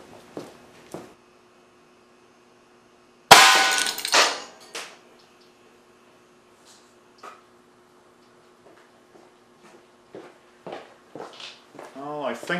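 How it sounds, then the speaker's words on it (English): An aluminum-can 5-volt, 3300 microfarad electrolytic capacitor fired from an air cannon strikes a 25-inch CRT with one loud, sharp clang, then a brief ringing tail and some scattered rattles, with faint ticks and low hum around it. "I think I see a mark from the capacitor, but I don't see a broken CRT."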